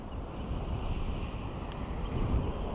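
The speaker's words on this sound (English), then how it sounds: "So this is more than hurricane wind gust," A hurricane-force wind gust in Iceland roars steadily against the microphone, a dense, buffeting rush with low rumble and no other sounds.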